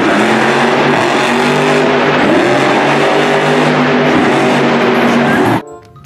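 Toy monster truck giving off a loud revving engine sound effect, a sustained steady roar that cuts off abruptly near the end.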